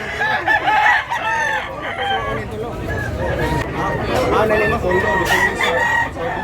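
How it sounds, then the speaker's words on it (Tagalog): Many chickens and roosters at a Cebu poultry market in Tabunok, with repeated crowing and clucking from several birds close by, layered over a steady hum of market chatter. "Daming manok kinala niya mga idol."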